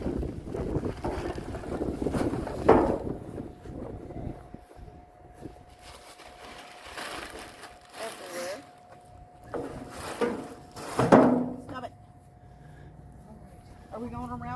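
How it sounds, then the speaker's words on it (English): Gusty outdoor wind buffets the microphone in uneven bursts near a boat, rising and falling under intermittent talking. "Now the wind's picking up."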